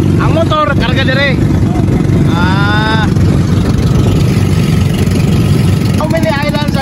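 A boat motor in Siargao, Philippines, drones steadily and loudly at a constant pace from start to finish, while people talk over it at intervals.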